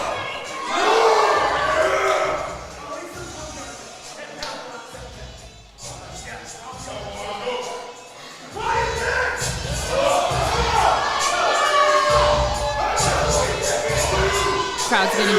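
A crowd at a powerlifting meet shouts and cheers loudly for a lifter attempting a state record deadlift, with rising roars, a brief lull, then a renewed burst of cheering and thuds as voices call out throughout.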